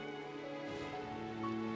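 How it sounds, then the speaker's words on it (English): In the video game Punishing: Gray Raven, rain pours inside a movie theater. It makes a soft, steady hiss under sustained musical tones, quiet and even for the whole moment. "Out of nowhere, it's pouring rain inside the movie theater."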